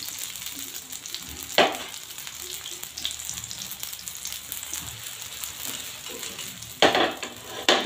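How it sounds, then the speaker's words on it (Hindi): Tawa idli frying in desi ghee on a griddle gives a loud, crackling sizzle, with brief bursts of scraping as it is stirred. "हम डालेंगे देसी प्योर घी, अच्छे से हिला देना है।"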